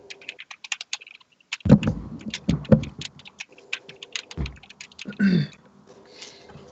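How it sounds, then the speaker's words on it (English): Rapid typing on a computer keyboard: a dense, uneven patter of close key clicks with a few heavier thumps, continuing throughout with no talking. "somebody is typing away very,"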